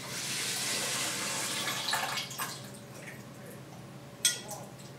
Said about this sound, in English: I've taken 5 cups of rice, so I'm going to add about 5 cups of water.